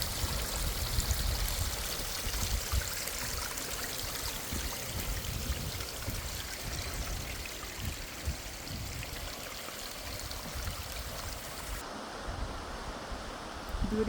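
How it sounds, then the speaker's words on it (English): A waterfall on Mackinac Island flows in a steady, broad rushing wash of water that stays constant throughout, with some wind buffeting and no voices. "Here's another beautiful waterfall."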